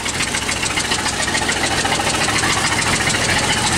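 A 1957 Studebaker 3E one-ton truck engine idles steadily with an exhaust leak, giving a continuous close rattling chug with a ticking edge and no voices.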